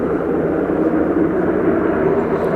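A Lufthansa aircraft in Star Alliance livery at Aberdeen Airport produces a steady, broad jet roar that holds at an even level throughout, with no voices.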